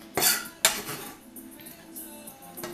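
Ingredients for a stir fry drop into a pan with two sharp clattering hits of utensils on metal, followed by softer scraping and light clinks up close.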